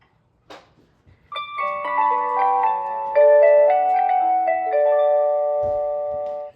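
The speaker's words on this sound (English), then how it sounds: "the base station basically has 7 different sounds" An X-Sense smart mailbox alarm base station plays its second alert tone, a bright electronic melody of layered sustained notes stepping through a short tune after a faint click, loud and clean with no talking.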